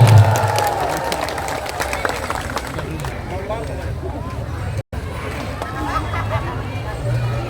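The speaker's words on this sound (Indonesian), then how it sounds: "Para relawan semua, tepuk tangan buat para relawan." Crowd at an Indonesian Malay cultural council gathering applauds the volunteers, clapping and cheering mixed into loud hall babble and voices, with a brief dropout midway.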